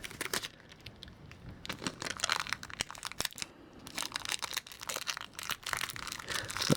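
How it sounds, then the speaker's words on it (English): Adhesive tape is torn and pressed onto macrame cord in a run of close, crackly bursts of tearing and crinkling with short pauses between them. No one speaks. "I have to use tape again, just for me not to confuse myself."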